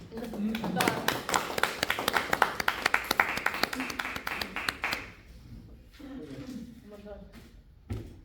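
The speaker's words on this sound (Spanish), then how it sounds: "Ahora aplaudimos." An audience at an event marking 140 years of Argentina's Law 1420 on education breaks into dense, close applause that lasts about five seconds, then thins to a few scattered claps with murmuring voices underneath.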